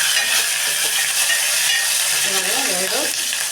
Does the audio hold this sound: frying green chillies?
yes